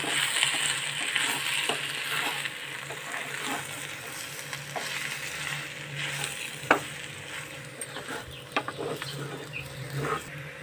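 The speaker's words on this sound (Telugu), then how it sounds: "టూ స్పూన్స్ కారం వేసుకోవాలి. కొంచెంసేపు కలుపుకొని" Two spoons of chili powder stirred into a curry frying in a pan, a steady close sizzle with soft scraping and occasional spoon taps against the pan, no talking.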